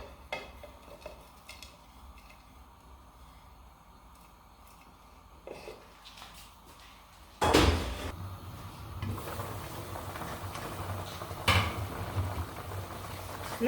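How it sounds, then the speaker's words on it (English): Fish soup in a covered pot coming to a boil: quiet kitchen clatter of utensils at first, then a sudden louder, steady rushing bubble that carries on to the end. "let it boil"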